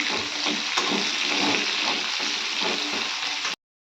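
Red amaranth greens with chopped tomato and coriander frying in oil, seasoned with salt, turmeric and chili powder, a dense, loud, continuous sizzle with faint stirring under it, close up, cutting off abruptly.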